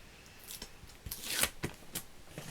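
Scissors snip through paper and card while a Christmas album is made, several close, sharp crisp cuts spaced irregularly over a quiet background, with no talking.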